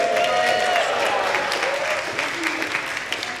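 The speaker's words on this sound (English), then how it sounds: "Give a round of applause for Deb, our music librarian, who got all this together." Choir members at a rehearsal applaud their music librarian, a steady, moderately loud round of clapping from a room full of people, with a faint tone and some murmuring mixed in.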